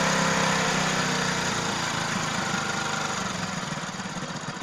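A Hero 100cc motorcycle engine idles steadily during carburetor tuning, a continuous close mechanical drone with a slight rhythmic knock that eases a little toward the end.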